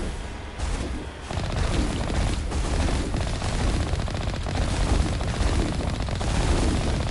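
Sustained weapon fire from the Mass Effect video game, a dense run of rapid shots and booms at close range that continues throughout with steady loudness.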